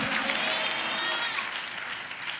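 A church congregation claps loudly together during worship at a pastor's night service, a dense steady wash of applause that fades slightly toward the end, with faint voices mixed in.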